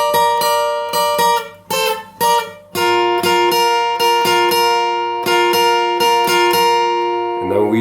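Electric guitar plays the second line of a song, a picked riff moving into down-up strummed chords, steady and close, played alone at a relaxed tempo.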